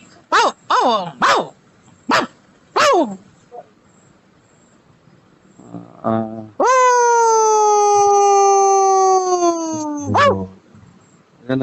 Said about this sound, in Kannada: ನಮ್ಮನೆ ನಾಯಿ ಬಂದೈತ್ ನೋಡಿ ಸ್ವಾಮಿ